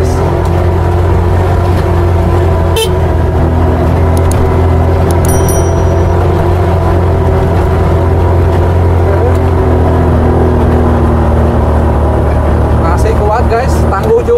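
A TVS cargo vehicle grinds up an extreme hill in first gear, its engine droning loud and steady close by with a constant low hum and occasional clanks, no voices heard.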